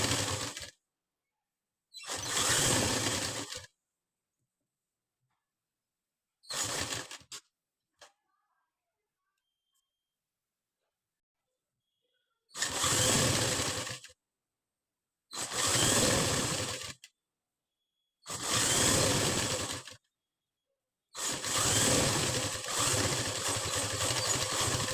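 Close-up sewing machine stitching a blouse sleeve in short loud bursts of a few seconds each, separated by silent gaps, with the bursts coming more regularly toward the end.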